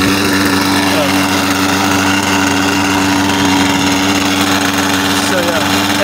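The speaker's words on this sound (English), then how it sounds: "you can also hear the sound of this engine with a stock muffler" An SK .50 glow engine fitted with its stock muffler, mounted on a Global Hobbies Birdie 40 model plane, runs steadily with a loud, continuous buzzing drone that holds an even pitch throughout.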